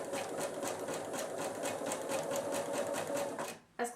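A sewing machine zigzag stitches a corded fabric bowl, a steady, fast mechanical whir with rapid needle ticks, close and fairly quiet, stopping briefly near the end.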